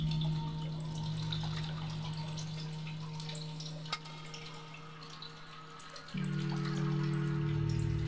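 Steady flowing water in a cave in the video game Sisyphus Reborn, a continuous wet trickle with faint drips, alone with no voices, swelling briefly louder near the end.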